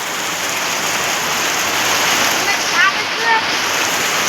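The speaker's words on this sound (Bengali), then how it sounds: "আর পুরো জোরে বৃষ্টি চলে আসছে" Heavy rain pours down at night around 10:30 at a family celebration venue, a loud, dense, continuous hiss that fills the whole stretch, with faint voices briefly in the background.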